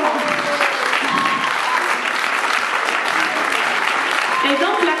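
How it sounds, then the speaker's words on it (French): An audience at a line dance class applauds a dancer and guitarist, a loud, full sustained round of clapping with a faint crowd murmur beneath. "je vous demande un tonnerre d'applaudissements pour Sophie Tapie"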